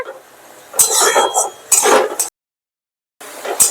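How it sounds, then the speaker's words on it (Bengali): A spatula stirs and presses fresh chhana around a pan for mango sandesh, making close, scraping bursts of metal against cookware, separated by brief pauses and one full stop of silence. "সমানে এটাকে নাড়াতে হবে, এইভাবে খুন্তির সাহায্যে একটু এরকম টিপে টিপে দিয়ে।"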